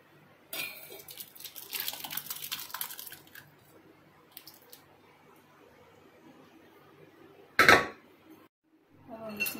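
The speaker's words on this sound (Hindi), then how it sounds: "अब हम इस बोल में खीर को निकाल लेंगे" Rice kheer made in a pressure cooker is ladled into a bowl, with scattered scrapes and clinks of a metal spoon against the cooker, a sharp knock near the end, and quiet gaps between.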